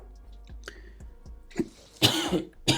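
A few short, separate coughs and throat-clearing sounds up close, then a louder burst of harsh coughing near the end.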